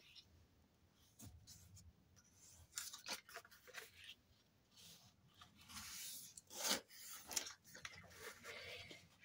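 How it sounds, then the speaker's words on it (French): Paper is cut along its folds for a handmade scrapbook album, with soft scraping and snipping strokes in uneven bursts, close and fairly quiet, with brief talk between them. "je coupe le long de mes plis"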